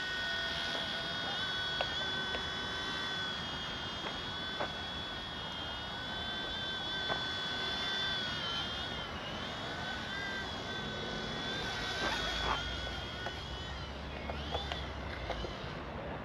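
A small RC ERA C129 V2 four-channel radio-controlled helicopter flying and then landing, giving a steady high-pitched electric whine from its motor and rotors that wavers slightly in pitch throughout.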